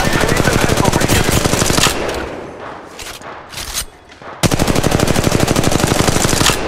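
Sustained rapid automatic gunfire in a video game, loud and close, a dense stream of shots that drops briefly to scattered bursts and then resumes at full intensity.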